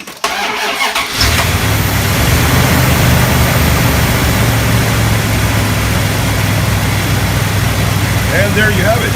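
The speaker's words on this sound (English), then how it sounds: "The jump starter started it without any battery connected." A truck engine cranks briefly and catches on a portable jump starter with no battery connected, then settles into a loud, steady idle that runs close and continuous to the end.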